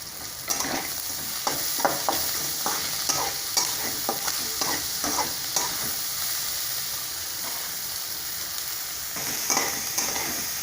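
Steady sizzling of onions with green chilli and curry leaves frying in a pan, with repeated stirring scrapes in an uneven rhythm over the constant hiss.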